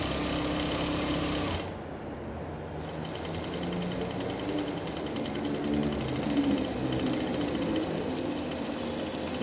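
A sewing machine stitching a plain kurti runs at a steady, close, high-pitched hum with a fine rapid needle rattle. It stops briefly near the start, then keeps running without a break.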